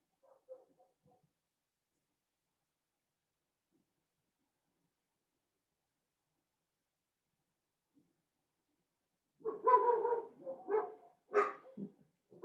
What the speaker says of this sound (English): And now my dogs are all barking.